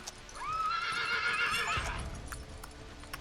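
A horse in the video game Ertugrul of Ulukayin gives a long, loud whinny while being ridden, with hooves clip-clopping beneath it and continuing faintly afterward.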